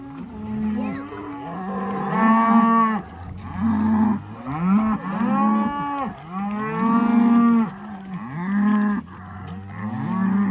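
Cattle lowing repeatedly in a corral, a series of long, loud, close moos one after another, some deep and some higher, with brief gaps between calls.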